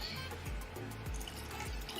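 A drink is poured into a glass over ice with a pineapple wedge, a steady faint trickle of liquid with small gurgles and clinks, close and quiet.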